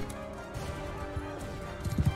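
Horse hooves clip-clop at a steady gallop in the video game Mount and Blade Bannerlord, fairly quiet under game ambience, with a few louder thuds near the end.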